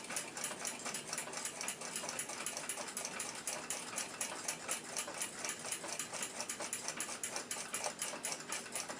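Gear wheels from a restored 1926 Lux clock spin freely, giving a steady, dense stream of fast ticking and whirring clicks, close and even throughout with no pauses.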